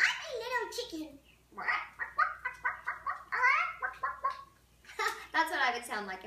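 A voice imitates a chicken with a run of quick clucking, bawking syllables in short rhythmic bursts, close and clear in a kitchen with no other noise.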